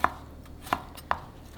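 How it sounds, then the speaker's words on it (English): A kitchen knife chops fresh tomatoes into bite-size pieces on a cutting board for a Thai fried egg salad: three separate, quiet thuds with short pauses between them, and no talking. "I cut tomato to bite size"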